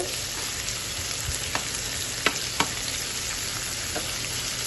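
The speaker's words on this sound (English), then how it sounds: "Now we are frying the shrimps." Shrimps fry in very hot mustard oil, giving a loud, dense, unbroken sizzle heard up close, with a couple of sharper spits and pops partway through and no talking.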